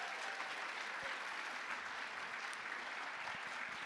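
Audience applause at a group cosplay contest at the Japan Impact 2025 convention in Switzerland, a steady, dense wash of many hands clapping throughout, moderately distant and without talk.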